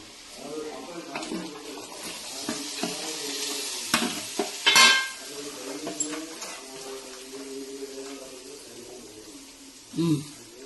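Garlic and potato sautéing in a pan, with soft sizzling and stirring scrapes throughout, a few sharper clinks of a utensil, and a voice speaking over the cooking.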